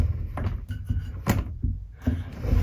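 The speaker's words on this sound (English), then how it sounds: "if this door ever gets not latched while we're traveling and it starts to roll, it stops" An RV sliding door rolls along its track and thuds to a stop against a screw fitted as a stopper, several knocks and rumbles close by with no talking.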